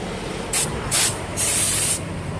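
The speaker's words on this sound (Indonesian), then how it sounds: "Lalu kita semprot dengan menggunakan angin membersihkannya dari debu-debu kotoran seperti ini" Compressed air blasts dust off disc brake parts in three sharp hissing bursts, the first two short and the last one longer, over a quiet background.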